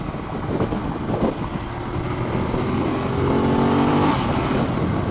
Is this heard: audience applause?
no